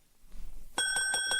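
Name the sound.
bell on shop counter rung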